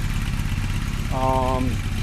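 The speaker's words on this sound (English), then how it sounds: "Nice tick-tock, lots of throat. Engine just as I remembered it." The engine of a 1983 Eddie Lawson superbike replica motorcycle idles steadily up close with a throaty, ticking rumble, while a voice speaks briefly over it.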